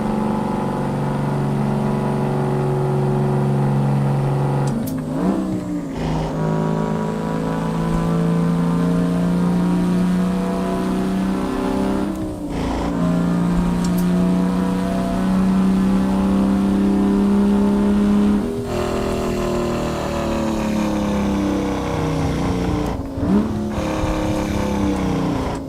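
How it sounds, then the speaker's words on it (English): Detroit six-valve two-stroke diesel truck engine in American Truck Simulator, a steady loud gritty drone with shifting harmonic pitch, brief dips around gear changes, then climbing revs near the end. "Six valve Detroit, 2-stroke diesel, man."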